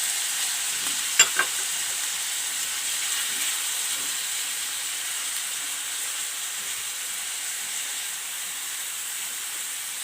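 Minced keema frying with onions in a pan, a steady soft sizzle and hiss throughout with a couple of brief clinks of a spoon near the start.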